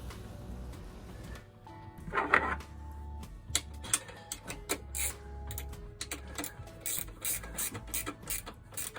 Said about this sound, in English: Again, use body washers and tighten the 8mm bolts